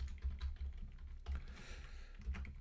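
Fingers tap out a password on a computer keyboard in quick, uneven bursts of close, light key clicks, with short pauses between runs of keystrokes.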